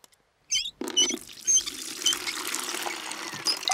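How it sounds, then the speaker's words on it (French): Water pours in a steady, splashy stream into a bucket in a Peppa Pig cartoon, starting after a brief high chirp and running loud and continuous to the end with no talking. "D'abord, il me faut de l'eau."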